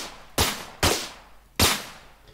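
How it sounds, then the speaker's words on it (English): Gunshots mixed with bullet impact sounds in an Unreal Engine 5 third-person shooter, three sharp loud bursts with quick decaying tails, the last two spaced farther apart. "you can also hear a mix between the gunshot and we're actually also playing an impact sound"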